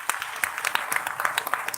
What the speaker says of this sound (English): give a big round of applause to the first timer